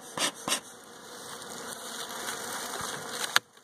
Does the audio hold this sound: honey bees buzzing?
yes